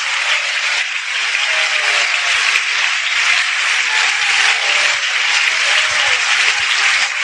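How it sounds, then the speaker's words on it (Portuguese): Steady applause from a church congregation holds at an even level throughout, with no voices rising above the clapping. "Mas as palmas foi fraquinha, eu pensei que era mais alegre"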